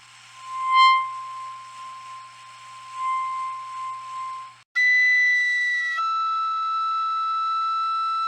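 A breathy, airy whistle blows in wavering pulses, then shifts to a harsher, steadier shrill tone with several overlapping pitches, held without pause.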